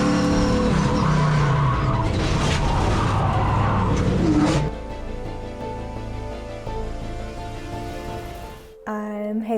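A race car on a tight oval track spins out as it cuts low, with loud tire skidding and engine noise for several seconds before it drops to a quieter, steadier hum.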